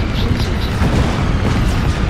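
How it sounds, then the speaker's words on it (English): Airstrike explosions in the video game Metal Gear Solid V roll as a loud, continuous deep rumble and roar that fills the whole moment, with no distinct separate blasts and no talking. "Possibility that we might get hit by our own airstrike here, but it'd be cool."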